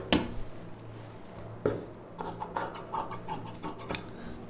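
Scissors snip through silk saree fabric while a blouse back neck is cut, a few sharp crisp cuts followed by quieter rustling and scraping as the blades move along the cloth, close and alone without talk.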